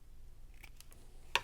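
Scissors make a single crisp snip through a length of ribbon, preceded by a few faint ticks and light handling sounds in a quiet room.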